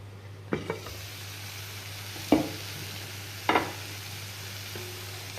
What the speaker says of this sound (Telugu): ఒక నాలుగు పచ్చిమిరపకాయలు కొంచెం కరివేపాకు వేసి వేయిస్తున్నాను